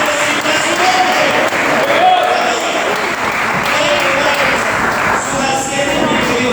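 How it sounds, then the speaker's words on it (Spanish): A church congregation bursts into loud, sustained applause, dense clapping with crowd noise running throughout and a few voices mixed in. "tu pueblo te da un fuerte aplauso"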